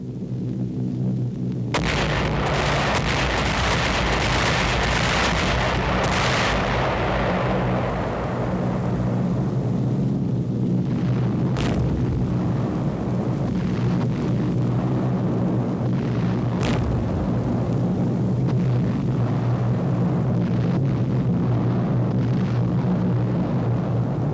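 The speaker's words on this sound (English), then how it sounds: "comes under intensive aerial bombardment by the Royal Air Force" The Royal Air Force carries out a heavy WWII aerial bombardment of a French harbour. Continuous loud rumbling blasts and booming explosions mix with droning aircraft engines in a dense, unbroken roar, with a few sharper bursts standing out.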